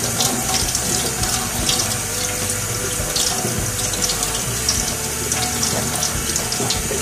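Tap water runs steadily into a sink to wet fabric balls before washing, a loud, close, continuous splashing stream with no talk.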